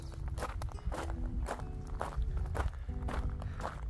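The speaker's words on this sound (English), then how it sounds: "There's a lot of pebbles, and I know my camera's gonna pick up a lot of that crush crush noises." Footsteps crunch steadily on a pebbly trail in Alaska, a close, rhythmic gravelly crush with each step and no talking.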